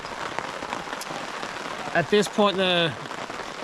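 Pouring rain drums steadily on surfaces at a riverside campsite, a dense, even patter throughout, while a person speaks briefly over it near the end.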